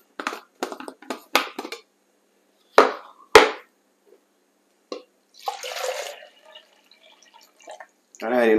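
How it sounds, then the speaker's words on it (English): Water is added from a cup to chickpeas in a pot, giving a few short close splashes and drips among clinks, with scattered bursts of sound and a voice partly heard near the end. "And I add in 1 cup of water, add in my chickpeas."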